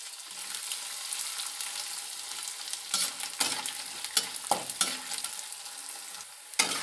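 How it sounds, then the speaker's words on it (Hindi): Edible gum (gond) roasts in a pan for laddoos, with soft frying and sizzling under repeated stirring and scraping strokes that grow busier toward the end. "ये गोंद भी भून गया है"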